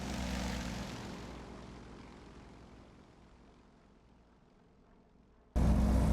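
A light propeller tow plane's engine roars loud and steady during a glider-towing takeoff in a flight simulator game, the drone slowly easing in level before a loud burst at the very end.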